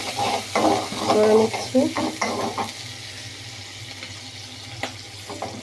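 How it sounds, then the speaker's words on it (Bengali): Onion sizzles and fries in a pan on the stove for a pumpkin-skin bhaji, with stirring scrapes louder early on, then a steady soft hiss; a voice speaks briefly. "আমি পেঁয়াজটা এখন চুলায় দিয়েছি"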